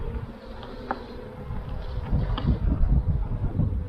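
Honey bees swarm around a frame lifted from the hive, giving a dense, continuous close buzz that grows louder midway, with faint wind noise underneath.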